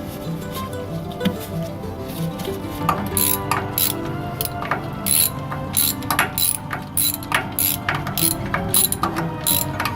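Socket ratchet snugging bolts on the rear differential of a third-generation Toyota 4Runner, with steady rapid clicking that comes in close bursts over a low background hum.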